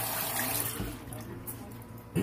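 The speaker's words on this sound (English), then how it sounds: "Rinse the hands off." Water runs from a tap as hands are rinsed at a sink before a face shave, a brief, close, steady splashing with a voice briefly heard.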